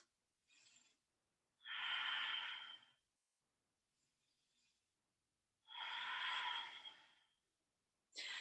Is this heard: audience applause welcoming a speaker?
no